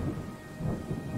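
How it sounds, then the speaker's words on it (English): A thunderstorm with steady rain in the video game IFSCL, a dense low rumble of thunder rolling under constant rainfall, loud and close throughout with no voices. "Dark and stormy night."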